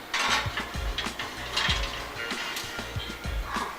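A baking dish of chocolate strawberry brulee custard slid into an oven preheated to 350 degrees, with rattling metal rack clatter and scraping, then a thudding door close, near and moderately loud.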